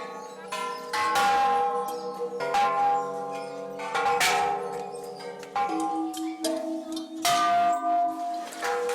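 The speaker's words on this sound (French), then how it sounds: "Il faut flapper le gong 3 fois" A gong at a Thai pagoda is struck three times, each stroke a metallic clang that rings out and overlaps the next, with faint voices in the background.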